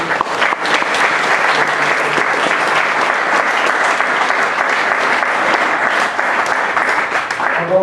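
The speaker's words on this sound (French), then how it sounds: "on peut l'applaudir et le remercier." Sustained audience applause following a talk at a French fire-service conference on coronary disease, a dense steady wash of many hands clapping at even loudness throughout, with no voices on top.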